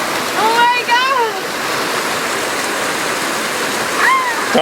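Steady rushing roar of a Scottish waterfall fills the clip, loud and continuous, with brief high chirpy voices breaking in near the start and end.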